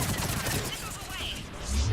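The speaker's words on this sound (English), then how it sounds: "Missiles away." Missile salvo launching in Mass Effect 3, a dense, continuous roaring burst of rapid launches and blasts filling the whole moment, with voices faintly underneath.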